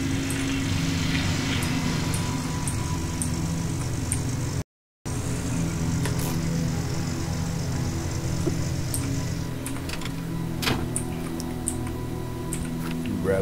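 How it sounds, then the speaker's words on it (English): A truck engine runs steadily throughout, a loud continuous low rumble with a higher whine at times, as the vehicle strains for traction; a brief dropout interrupts it near the middle. "As soon as my truck gets enough traction to move."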